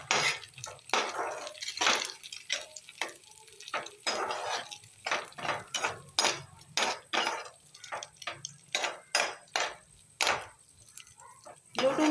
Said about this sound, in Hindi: मिक्स करेंगे इसको अच्छे से।